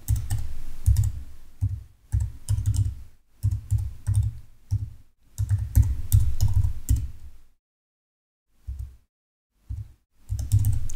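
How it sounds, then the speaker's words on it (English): Keywords typed on a computer keyboard in quick bursts of close key clicks, pausing briefly between words, with a short silence before a few final taps. "So you type in the keywords separated by comma."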